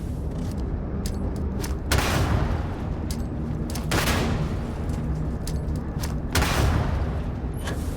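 Several grenades go off in the Starfield video game, heard as a series of heavy booming blasts separated by a few seconds over constant rumbling combat noise.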